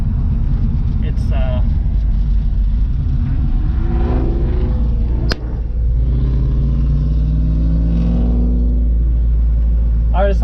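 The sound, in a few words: supercharged 1967 Ford Mustang driving on freeway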